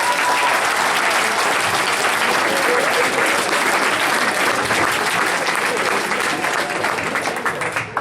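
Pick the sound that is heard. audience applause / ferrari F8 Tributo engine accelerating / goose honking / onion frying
audience applause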